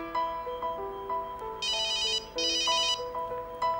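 A cell phone placed in a sealed test chamber rings with a melodic electronic ringtone, stepping tones broken by bright trilling bursts, repeating clearly and with no voices.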